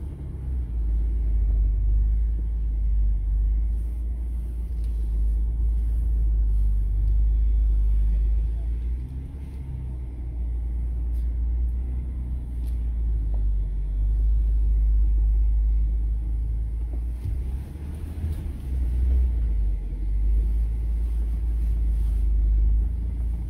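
Jeep Gladiator crawling up a rock staircase off road on Hells Revenge trail in Moab, Utah, with a steady low engine rumble throughout, loud and close, with occasional bumps and scrapes.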